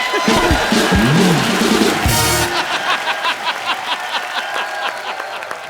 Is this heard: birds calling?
no